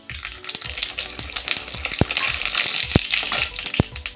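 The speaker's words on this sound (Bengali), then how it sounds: "এবার দেব একটা ফোড়ন, 1 চামচ মতন সর্ষে।" About a teaspoon of mustard seeds splutters and pops in hot, lightly salted oil while tempering for a Bengali eggplant dish, sharp crackles bursting irregularly over a steady sizzle, close and loud.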